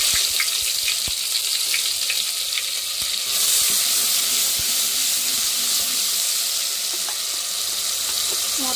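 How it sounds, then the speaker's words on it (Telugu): Tomato paste sizzling in hot oil in a home kitchen, a steady loud frying hiss with occasional stirring clicks, rising in intensity partway through as the paste hits the pan. "ఆయిల్ అయితే బాగా వేడైంది కదా, టమాటా పేస్ట్ వేసుకుందాం."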